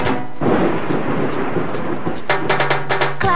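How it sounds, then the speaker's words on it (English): Deep thunder rumbles through a thunderstorm with rain, a loud continuous roll that swells and then breaks into sharper cracks near the end. "you might hear some thunder, that rumbling sound."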